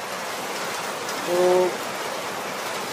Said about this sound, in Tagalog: napakalakas talaga ng ulan